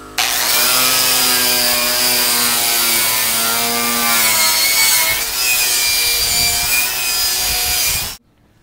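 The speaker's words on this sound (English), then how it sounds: "I'm just going to use this wire wheel on the grinder" A wire wheel on an angle grinder stripping paint from a window jamb, a loud, steady high-pitched whine with grinding hiss that holds for about eight seconds and then cuts off abruptly.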